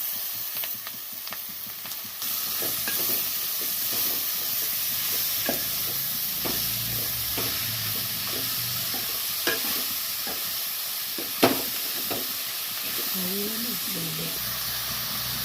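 Onions sautéing in a pan for cuttlefish curry: a steady low sizzle with occasional scrapes and clicks of a stirring spoon against the pan, moderately close, with a voice speaking now and then.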